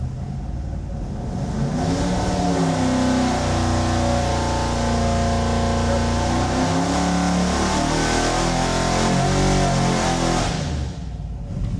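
A small-block Chevy V8 on an engine dyno revs steadily from 3,500 to 5,500 RPM in one continuous, loud, rising pull lasting about ten seconds, then cuts off sharply.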